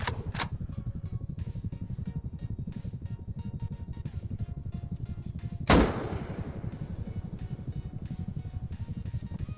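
A single loud, sharp gunshot firing high velocity ammo in Rust, cracking out close over a steady low droning background, with a few fainter ticks around it and no voices.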